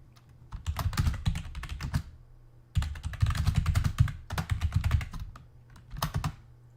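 Rapid typing on a computer keyboard during an esports league match break, in three bursts of dense, close clicking separated by short pauses, with no talking.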